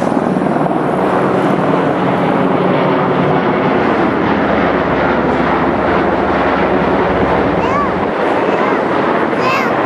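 Airplane flying overhead during a home air show, a loud, broad engine roar holding steady for about ten seconds with people talking faintly underneath.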